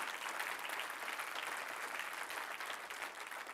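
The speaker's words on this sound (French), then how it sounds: "oui, on peut acclamer si vous êtes d'accord" A church congregation bursts into steady, dense applause, a broad even wash of many hands clapping throughout the short stretch, faint in level and heard without talk over it.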